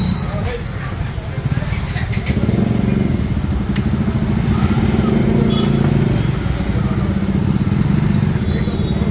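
Busy street traffic in Bangalore, with motorcycle and car engines idling and revving loudly close by in a steady, continuous rumble and clatter.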